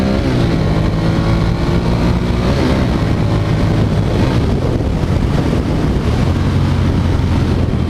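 A 1995 Ducati 900SS SP motorcycle accelerating on the road, its engine note rising through the gears under heavy rushing wind noise on the microphone, loud and continuous throughout.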